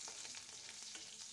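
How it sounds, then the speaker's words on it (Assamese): Onions fry in a wok already used for frying fish, a faint, steady sizzle with soft crackles running continuously and evenly throughout. "এতিয়া মই মাছ ভজা কেৰাহীটোতে পিঁয়াজ দি দিলোঁ।"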